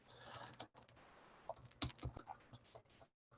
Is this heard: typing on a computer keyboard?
yes